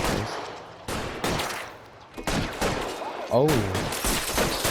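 Video game gunfire in L.A. Noire, loud rapid shots in bursts over a shootout scene, close and dominant, with a brief exclamation from a player.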